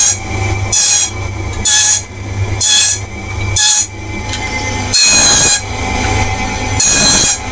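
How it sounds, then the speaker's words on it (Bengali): In a switch board workshop, a machine smooths and cuts the sides of boards, giving loud, harsh, high-pitched bursts at a rough regular rhythm over a constant low mechanical hum, with no voices. "এখানে একটা মেশিন রয়েছে যেখানে স্মুথ করা হয়"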